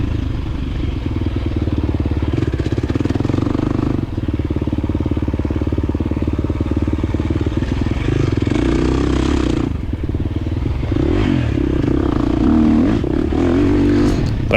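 A 2023 KTM 350 XC-F dirt bike rides through a scramble race, its engine droning loud and close the whole time, with brief dips and surges as gears change and rough clatter from the terrain.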